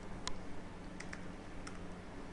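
Sparse keystrokes on a computer keyboard while typing code, a few isolated clicks spaced irregularly over a steady low hum, fairly faint and close.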